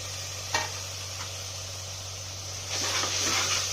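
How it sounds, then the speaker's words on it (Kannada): Greens such as fenugreek, dill, mint and coriander frying with onion-garlic paste in a pan, giving a steady sizzle with brief stirring scrapes that grows louder toward the end. "ಈರುಳ್ಳಿ, ಬೆಳ್ಳುಳ್ಳಿ ಪೇಸ್ಟ್ ಜೊತೆನೇ ಚೆನ್ನಾಗಿ ಫ್ರೈ ಮಾಡಿರಿ"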